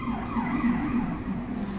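An ambulance siren wails in the distance, its pitch sweeping slowly up and down, faint and steady under a quiet room, with no talking.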